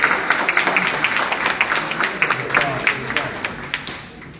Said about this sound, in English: Join me in giving Sheriff Pike a round of applause.